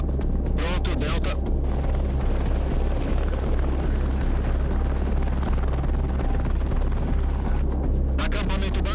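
A helicopter lifting off for Everest base camp roars loud and steady throughout, its deep rotor and turbine drone constant, with voices talking over it.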